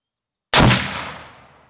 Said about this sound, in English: let's just go ahead and shoot a group right here at 50 yards